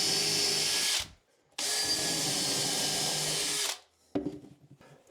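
Power drill driving screws into a cabinet panel behind the hinge, two sustained whining bursts of about a second and two seconds with a pause between, then a short rattling tail as the drill stops; close and loud, no talk.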